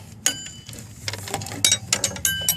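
Box-end wrench working a greasy nut loose under a 2000 Chrysler Town and Country, giving a series of close metallic clicks and ratcheting scrapes in quick irregular bursts, with no speech over them.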